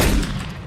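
Gunfire in a first-person shooter video game comes as a short, loud, close burst of shots that fades quickly, with no talk.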